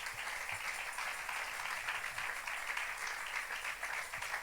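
A church congregation applauds together, a sustained, moderately loud wash of clapping from many hands that continues evenly without a break.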